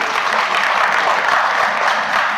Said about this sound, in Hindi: इन दोनों भाइयों के लिए एक बार जोरदार ताली होनी चाहिए